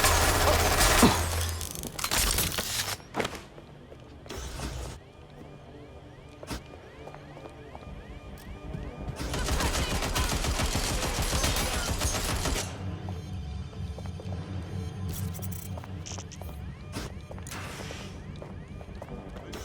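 Gunfire in Watch Dogs Legion: loud bursts of automatic shots in several clusters, with crashing impacts between them and a low steady background rumble.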